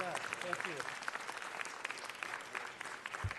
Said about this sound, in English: Let's give Anthony a round of applause